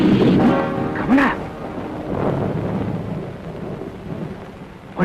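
Heavy rain pours at night while thunder booms loudly at the start and rumbles again midway, the downpour hissing steadily behind and fading slightly toward the end.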